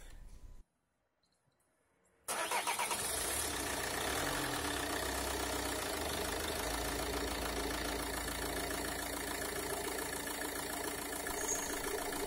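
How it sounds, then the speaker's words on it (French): A Peugeot 407 car engine cranks and fires after a brief silence during an oil change, then settles into a loud, steady idle with a faint ticking texture that runs on alone. "je vais démarrer la voiture pour que l'huile aille dans le filtre à huile"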